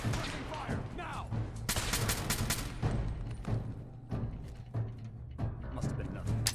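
Dense gunfire in the Fallout 4 video game: rapid bursts and overlapping shots crackle loudly for several seconds. Voices shout in the background and a low hum runs underneath.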